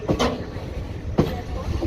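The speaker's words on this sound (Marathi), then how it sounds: "फलाटावरून ट्रेन सुटली होती" Low rumbling of a train leaving a station platform and rolling on rails, with two brief sharp clatters from the wheels over the steady hum.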